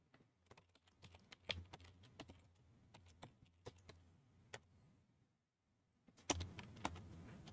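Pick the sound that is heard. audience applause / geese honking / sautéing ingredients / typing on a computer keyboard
typing on a computer keyboard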